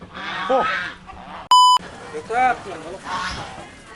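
A flock of geese gives several honks, close and scattered across the moment, broken by a sharp electronic beep, with people talking in between.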